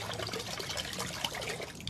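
Water is poured into a bowl while making buko salad, a soft continuous trickle and splash heard close up but at low volume.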